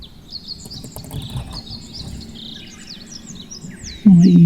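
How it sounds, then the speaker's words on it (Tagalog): A bird hidden beneath a house gives a run of thin, high chirps and sliding whistles, moderately distant, over a steady insect-like hiss, until a loud low thump cuts in near the end. "Nasa bandang dulo, may ibon, oh."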